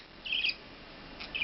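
A pet budgie makes two short bursts of high chirping, one near the start and one near the end, close to the listener, with quiet between them.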